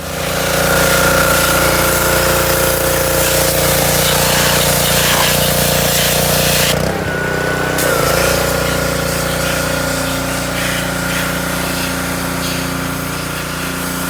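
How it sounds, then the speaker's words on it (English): A pressure washer blasts the transmission of a 1967 International Loadstar 1600 truck, a steady loud hissing roar with an engine hum beneath, dipping briefly mid-clip before resuming. "power washing the transmission there"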